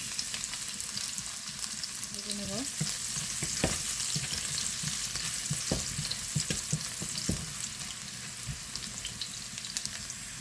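Dried red chilies and garlic frying in hot oil as greens are cooked, a steady crackling sizzle with scattered sharper pops and a few clinks of a spatula stirring the pan, with no talking.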